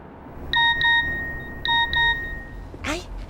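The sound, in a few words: cellphone text message notification beep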